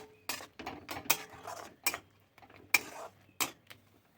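Curry leaves are stirred into a pan of cooked palm seed mixture. Close, irregular scrapes and metallic clinks of a spoon against the pan come in short bursts separated by brief pauses.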